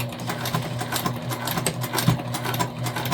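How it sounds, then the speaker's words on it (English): A sewing machine stitches tote bag panels together all the way around, its needle clattering in a fast, steady, close-up rhythm with a motor hum beneath and no talking. "We're just going to top stitch all the way around."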